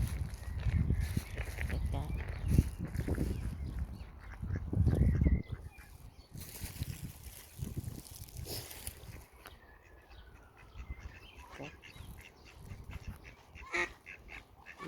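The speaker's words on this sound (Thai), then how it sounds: "เห็นเป็ดไหมคะ เป็ดสามตัว" Ducks quack at close range against a noisy outdoor background, with scattered calls over rustling and wind.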